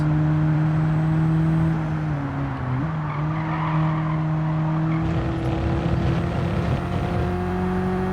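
Race car engine in Gran Turismo 7, played on a Logitech G29 wheel from the onboard view, holding a steady loud drone with a brief dip and shift in pitch midway, tire noise underneath and no talk.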